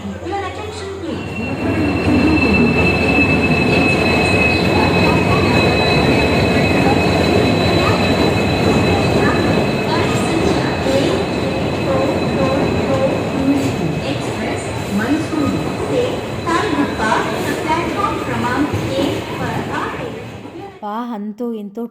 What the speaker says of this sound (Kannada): ಅಂತೂ ಇಂತೂ ಟ್ರೈನ್ ಬಂತು.